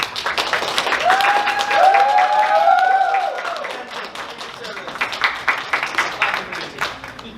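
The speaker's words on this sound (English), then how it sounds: "A round of applause for Church of Purple Skunk." A crowd at a fan panel applauds for Church of Purple Skunk, loud and sustained at first, then thinning into scattered claps, with a sliding whistle-like tone and voices mixed in.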